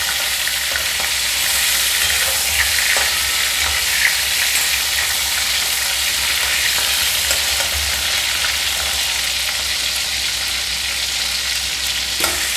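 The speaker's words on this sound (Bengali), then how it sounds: "চিংড়ি মাছ বেশি ভাজলে শক্ত হয়ে যায়, আমি হালকা করে একটু ভেজে নেব।" Prawns fry lightly in hot oil, giving a dense, steady sizzle that holds close and even throughout, with no voices.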